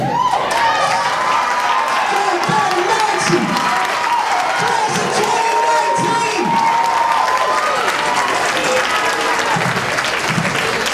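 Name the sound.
graduation audience clapping and cheering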